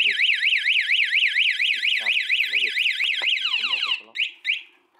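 Anti-theft alarm on a Honda MSX motorcycle wails in loud, rapidly warbling electronic sweeps, then breaks into shorter chirps near the end as it cuts off.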